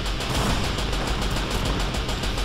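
Musket volleys from a Grenadier unit in a Empire Total War online battle, a dense rolling crackle of many overlapping gunshots, loud and continuous with rapid irregular bursts and no voices.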